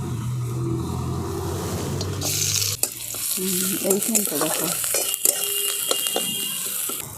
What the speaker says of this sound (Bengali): তেলটা গরম হয়ে গেছে। এদিকে আমি আদা গ্রেট করে রেখেছি, দিয়ে দিচ্ছি আদা আর রসুন।